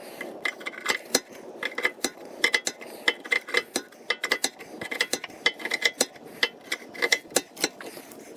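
A ratchet tightening bolts on a new trailer axle, rapid clicking bursts and metallic clanks repeating in uneven runs, close and fairly crisp with no talk.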